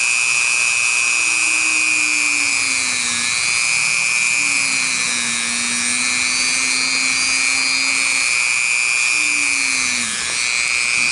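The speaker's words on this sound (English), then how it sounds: "I'm going to drill right in between here" A moto tool rotary drill bores a small hole in a miniature whittled carpenter figure, giving a steady, close, high-pitched whine whose pitch dips slightly as the bit bites, with a low hum wavering underneath.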